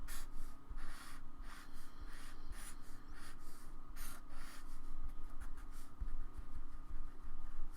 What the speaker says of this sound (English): I'll try to draw a 3D version of it